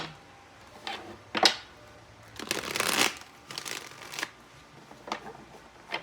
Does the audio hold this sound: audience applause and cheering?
no